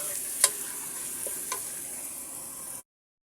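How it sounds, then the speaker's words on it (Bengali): Spices fried in oil with bay leaf for a beef and vegetable curry hiss in a steady, moderate sizzle, broken by a couple of sharp stirring scrapes before cutting off abruptly. "এবার মশলাটাকে নেড়ে দিচ্ছি।"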